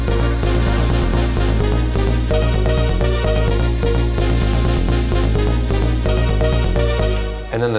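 A dense, loud synth arrangement of the second part of a Streets of Rage 2 track plays on an Elektron Digitone, layered bass and melodic lines pulsing steadily before a brief sweep near the end.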